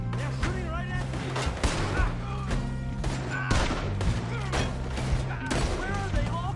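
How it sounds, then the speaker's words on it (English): Gunfire in a Red Dead Redemption 2 shootout, repeated sharp shots and rattling volleys over a steady droning score, with faint voices mixed in. "They're shooting right at me!"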